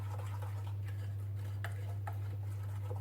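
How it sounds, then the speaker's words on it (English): A utensil stirs vegetable oil into cake batter in a bowl for a Tatin-style pear cake, making scattered light clinks and scrapes over a steady low electrical hum, with no voices. "Mix it well."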